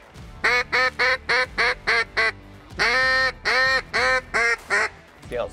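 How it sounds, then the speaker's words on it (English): Zink Calls Powerhand PH2 duck call blown in loud, clear quacking: a run of about nine even, evenly spaced quacks, then a longer drawn-out note followed by several more quacks tapering off. "See how smooth that duck call is?"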